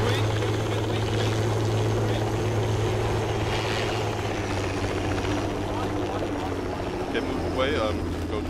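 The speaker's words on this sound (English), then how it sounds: "you've got infantry chopper, mate, going your way" A helicopter in a Forgotten Hope battle game gives a loud, steady rotor drone that fills the whole stretch, with bursts of other game noise on top.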